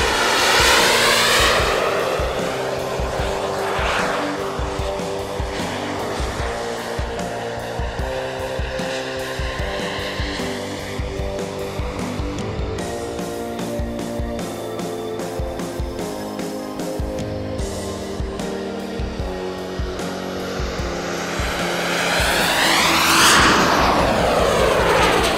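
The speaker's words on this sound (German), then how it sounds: "Und zwar kann man mit dem Modell auch hovern, torken und wirklich 3D fliegen." An RC model airplane performs 3D aerobatics at an outdoor airshow, hovering and torque rolling, its propeller engine buzzing loudly and steadily for the whole stretch and swelling as it passes close, with no talk.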